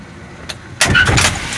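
A 9-inch electric motor coupled to a Ford transmission in second gear is started at low voltage, near 48 volts: a faint click, then a sudden loud mechanical whir and clunk as it spins up close by.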